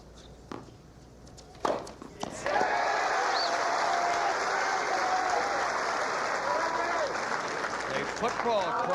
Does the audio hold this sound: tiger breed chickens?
no